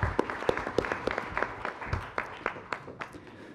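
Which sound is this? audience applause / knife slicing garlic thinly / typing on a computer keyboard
audience applause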